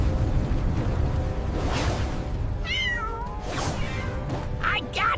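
An animated cat meows a few times amid loud, rumbling cartoon action with whooshing effects, the calls rising clearly over a dense noisy background.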